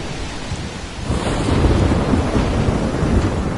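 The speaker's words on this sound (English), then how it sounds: "I'm trapped in a storm?" A thunderstorm in the video game Life is Strange fills the air with loud steady rain, and a deep rumble of thunder swells about a second in and rolls on to the end.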